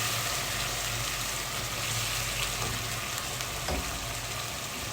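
Coconut crab gravy poured into a hot pan and mixed, with a dense continuous sizzle and faint stirring scrapes held at an even level throughout.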